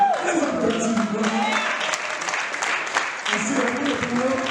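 A congregation at a church wedding ceremony applauds in a sustained, moderately loud wash of clapping, with voices and tonal sounds running over it throughout.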